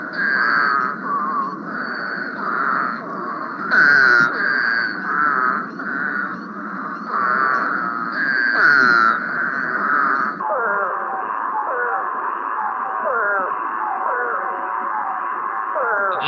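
Recorded frog calls of North Carolina species play in a steady chorus: repeated pulsed, rising calls over a continuous high trill, fairly loud and close, with the trill dropping out partway through.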